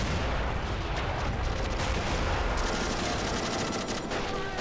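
Artillery and gunfire boom and crackle steadily in a war video game set during a mountain D-Day-style invasion, dense overlapping shots and blasts forming a continuous loud barrage.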